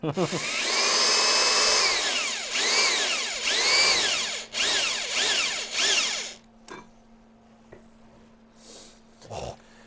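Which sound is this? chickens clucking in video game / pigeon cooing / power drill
power drill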